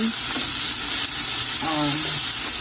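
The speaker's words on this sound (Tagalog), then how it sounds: "So pa igigisa ko lang." Pork sizzles and crackles in a hot pan as it is sautéed for pancit bihon, a loud, steady frying hiss with a few short stirring scrapes.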